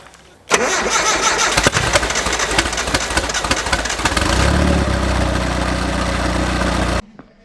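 A turbo Nissan 240SX drift car cranks briefly and fires up, then settles into a loud, steady, rumbling idle that keeps running close by until it suddenly stops.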